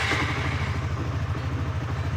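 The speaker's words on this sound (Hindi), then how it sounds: "चलिए गाड़ी को स्टार्ट करते हैं।" A custom Honda CBR motorcycle engine running steady and loud close by, a rhythmic low thumping idle with mechanical clatter throughout.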